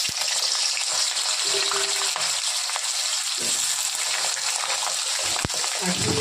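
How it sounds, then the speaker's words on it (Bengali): Cut potato pieces hit hot oil seasoned with panch phoron for a cabbage dish, setting off a loud, steady sizzle and crackle of frying that runs unbroken throughout, with occasional stirring. "এখন আমি আলুটা, এই যে টুকরা করে আলুটা কেটে রেখেছিলাম বাঁধাকপি দেবো বলে, এখন দিয়ে দিচ্ছি।"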